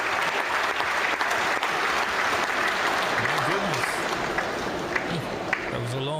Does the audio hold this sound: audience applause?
yes